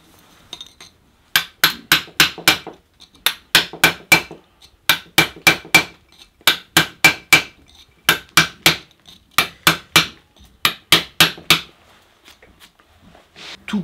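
Hammer striking a chisel into stone during sculpting, sharp ringing blows in quick bursts of three to five strikes separated by short pauses, close and loud with no talking.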